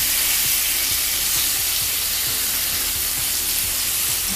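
Steady, loud sizzling of meat and vegetables frying on a grill, a dense crackling hiss with occasional soft pops, continuous with no talking.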